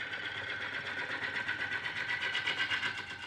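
A woodturning gouge cuts a small groove into a spinning workpiece on a lathe while roughing out, giving a steady, close, continuous scraping hiss with a slight pulsing rhythm and no talk.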